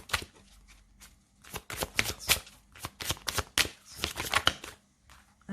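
Tarot cards being shuffled by hand in close, crisp bursts of riffling and flicking, with short pauses between runs and no talking.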